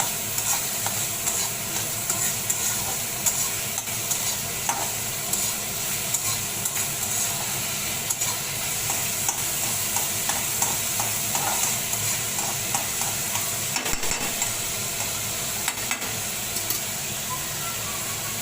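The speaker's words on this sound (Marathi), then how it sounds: "चांगले परतून देऊ आपण" Dried clams sautéing in a pan give a steady, close sizzle with light stirring scrapes running throughout, no voices over it.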